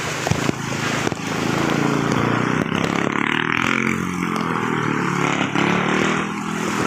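A motorcycle rides through a flooded street in Kasiglahan Village, Rodriguez, Rizal during Typhoon Carina, its engine droning steadily with water churning and splashing around it, fairly close.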